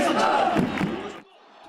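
Red Devils football supporters in World Cup jerseys and headbands massed at Gwanghwamun Square, cheering and shouting together in a loud crowd roar that cuts off abruptly into quieter ambience.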